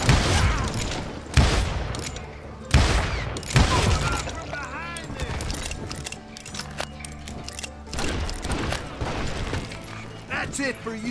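Gunfire from the Western shooter game Call of Juarez Gunslinger, with loud bursts of shots at irregular intervals and mechanical reload clicks in between, plus game dialogue.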